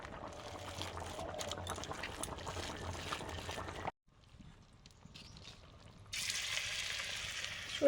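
Mustard greens fritters fry in hot oil with a soft, continuous sizzle that cuts out briefly, then returns and brightens into a louder, hissing crackle.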